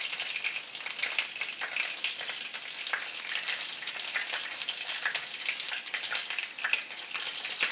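Mozzarella fritters crackle in shallow oil, a fine, even spitting sizzle with scattered pops, moderately quiet and steady throughout, with no one speaking.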